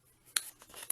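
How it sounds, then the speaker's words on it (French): A paper trimmer slices white cardstock with a sharp scraping cut near the middle, followed by softer sliding and a final crisp snap, close and fairly quiet with no talk. "On a dit qu'on restait avec le coupe-papier"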